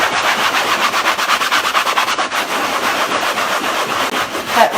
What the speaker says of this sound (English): I'm moving the paint around so that it soaks in really well and is distributed evenly